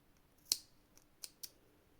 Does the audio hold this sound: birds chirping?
no